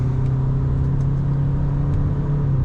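A 2017 Citroën C4 Grand Picasso BlueHDI 150 diesel accelerates hard, its engine droning loud and steady from inside the cabin with a strong low rumble and no pause.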